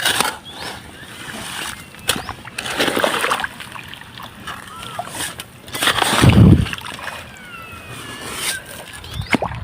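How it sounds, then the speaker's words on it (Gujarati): Irrigation water diverted into a farm field splashes and gurgles, with uneven sloshing bursts and a louder surge partway through, over an outdoor background. "તો મિત્રો આપણે ખેતરની અંદર પાણી વાળીએ છીએ."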